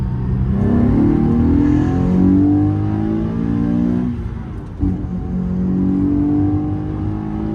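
Nissan 370Z engine revving hard in second gear toward 4,000–5,000 RPM, a loud, continuous rising and falling engine note with a brief dip as the throttle lifts, then climbing again.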